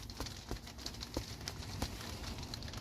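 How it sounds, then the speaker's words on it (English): Rain drums on the roof of an RV in a steady, dense patter of soft taps. Scattered louder drips land on top at an even, moderate level with no talking. "the rain's coming down pretty good again"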